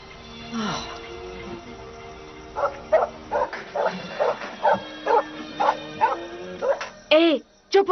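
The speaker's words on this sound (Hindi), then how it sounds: "ये डॉगी क्यों भौंक रहा है?" A dog barks again and again in a steady series of sharp, mid-distance barks, with a few whimpering yips mixed in and people talking over part of it.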